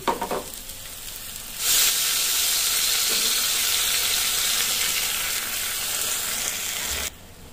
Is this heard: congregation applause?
no